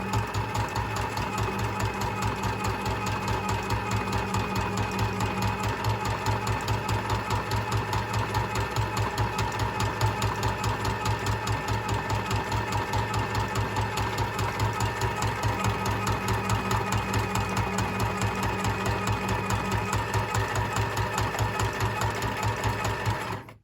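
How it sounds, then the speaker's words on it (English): A sewing machine stitches a zigzag seam. It runs at a steady, rapid mechanical rhythm for the whole stretch, close and continuous, with no talking. "I'm just going to turn that over and stitch a zigzag along there."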